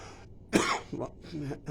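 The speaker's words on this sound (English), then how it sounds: "Just a cough in your face." A single loud, close cough bursts out, followed by a softer throat-clearing sound.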